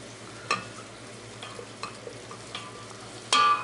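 Flour is stirred into butter and onions in a pan to make a roux, with a soft sizzle and several sharp scraping clicks of the spoon, ending in a louder scrape.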